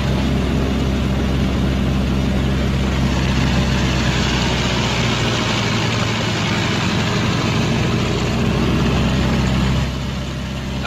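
Twin piston engines of a B-26 bomber run up on the ground, a loud, steady, deep droning roar that holds continuously and eases slightly at the very end, with no talk over it.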